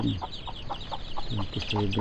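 Hens cluck in short, repeated bursts, fairly close, with a low murmur of other birds and background noise throughout.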